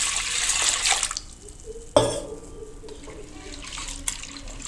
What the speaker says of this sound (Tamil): சேர்த்து இதில் தண்ணியை ஊற்றி